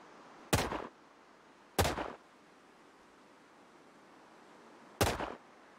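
Three sharp rifle shots in Sniper Ghost Warrior Contracts, spaced unevenly over a few seconds, each a loud crack with a short decaying tail over a quiet background hum.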